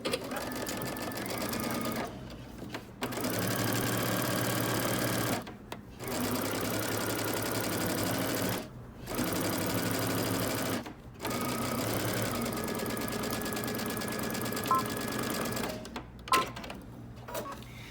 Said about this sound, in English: now we're going to go ahead and stitch using 5/8 of an inch seam allowance